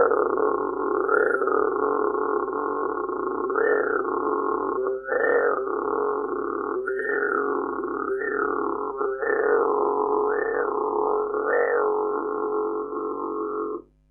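A human voice beatboxing a loud electronic-style vibration bass with nasal buzzing, a sustained droning growl pulsing and wobbling in pitch for about fourteen seconds, imitating a synthesizer bass.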